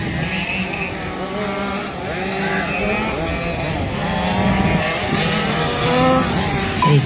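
1/5 scale RC cars racing qualifier laps on a track, high-revving small engines whining and rising and falling in pitch as several cars pass, steady and fairly loud throughout with overlapping engine tones.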